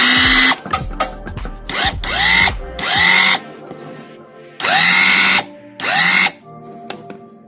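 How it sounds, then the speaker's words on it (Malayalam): A 24V three-speed electric screwdriver runs in several short bursts, each a loud, close motor whine that rises as it starts and cuts off abruptly, with brief pauses between the runs. "മൂന്ന് സ്പീഡുകളുള്ള ഈ ഇലക്ട്രിക് സ്ക്രൂ ഡ്രൈവർ മെഷീൻ നമുക്ക് വീടുകളിലും സർവീസ് സെൻ്ററിലും ഒരേപോലെ തന്നെ യൂസ് ചെയ്യാൻ പറ്റുന്ന ഒരു പ്രൊഡക്റ്റാണ്"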